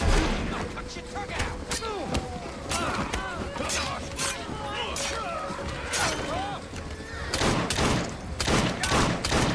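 A rapid volley of gunshots rings out in the video game Assassin's Creed Syndicate, about six sharp cracks in a row over a game soundtrack, with someone talking over the fire.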